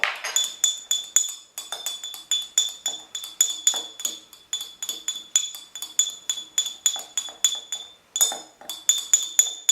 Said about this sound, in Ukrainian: Беремо одну чайну ложку меду і розмішуємо його в такому горлятку води